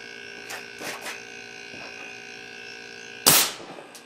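An air cannon fires a 1/4 inch steel BB at 400 psi at a scrap of 20 gauge steel, one sharp loud blast after a steady electrical hum and a few faint clicks.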